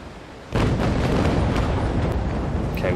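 Naval cannons firing chain shot during a sea battle between a brig and the Cerberus in a naval combat game, a sudden heavy boom followed by sustained rumbling, crackling gunfire that stays loud throughout.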